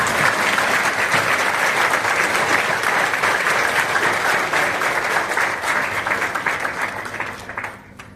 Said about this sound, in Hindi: यदि खुलकर ताली बजा दो तो हो सकता है प्रदूषण बाहर भाग जाए।